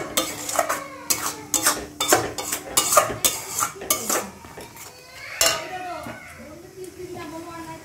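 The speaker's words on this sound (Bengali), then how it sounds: "আর টমেটো পেস্ট করে রেখেছে, এটা এবার দিয়ে দেবো। দিয়ে দিলাম, এটাকে ভালো করে একটু কষিয়ে নেব।" A metal spoon clatters and scrapes in a pan while a spice paste with tomato is stirred and fried, giving rapid close clinks over a light sizzle, with a voice talking over it.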